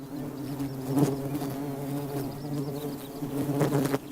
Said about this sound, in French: Des bourdonnements accompagnent l'accouplement.